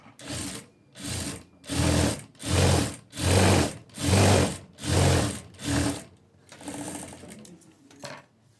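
A sewing machine runs in eight even bursts, stitching a hook-and-eyelet fastening, each run a loud mechanical whir with short pauses between, then a quieter rustle of fabric at the end.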